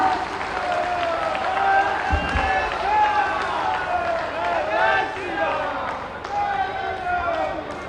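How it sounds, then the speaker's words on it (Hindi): A rally crowd applauds and cheers loudly in a sustained wash of clapping and shouting, with a public-address voice ringing through the mix and a few rhythmic surges of noise. "आपकी जोरदार तालियां।"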